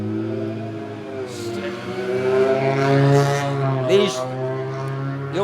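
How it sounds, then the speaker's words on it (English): Loud rally car engines roar and rev as the cars pass close by at WRC Rally Portugal 2024, their pitch bending as they go, with a voice underneath. "I am learning not to try and talk against the sound of these cars. They are so loud"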